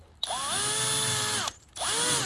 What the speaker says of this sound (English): I chose to use the medium brush that came from Home Depot, the Roby brand, with the drill